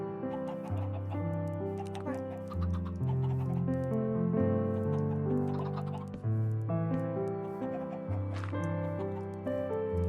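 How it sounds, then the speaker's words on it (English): Minecraft chicken clucks repeat over a steady, layered musical background, lively and continuous with several birds overlapping. "Oh, that's a lot of chickens."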